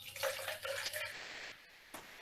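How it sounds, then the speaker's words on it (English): Water pours steadily into a jar, a faint, continuous splashing rush that carries on for about two seconds with no talking over it. "So again, I am pouring water into the"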